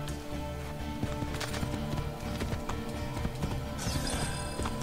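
Rhythmic clip-clop of a horse galloping in Assassin's Creed 2, steady hoofbeats running continuously and fairly loud, with game ambience and a brief whinny-like texture around them.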